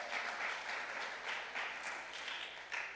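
Church congregation applauds after a fundraising announcement, a steady, fairly distant wash of many hands clapping throughout.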